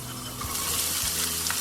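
Onions fry in hot oil in a pan for vegetable fried rice, giving a brief, dense, close sizzle with a steady hiss and faint stirring knocks, no talking over it.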